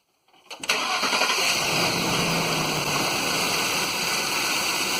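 A 2008 Ford F-150 pickup engine cranks briefly and catches, then settles into a steady, close idle hum.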